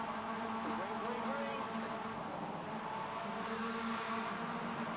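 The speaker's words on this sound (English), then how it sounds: "revs are building here then for the final time this evening" Mazda MX5 race cars rev on the starting grid at Donington at night, a dense, steady engine drone that holds loud and continuous throughout, with a voice talking faintly underneath.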